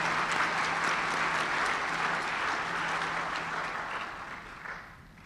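Audience at a fall community college commencement applauds in a sustained wash of clapping that slowly thins and fades toward the end, heard from within a large hall.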